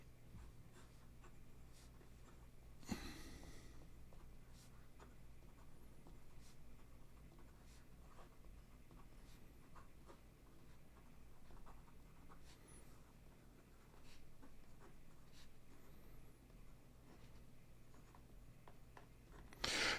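An Asvine C2000 fountain pen with a number 8 nib writes on paper, giving a very faint, continuous scratching with small stroke ticks over twenty seconds. There is a brief louder rustle early on and a bump at the very end, with no talking.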